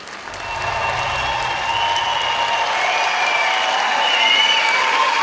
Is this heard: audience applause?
yes